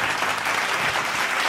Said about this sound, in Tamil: கைத்தட்டுங்களே ஒரு தடவை இருக்கு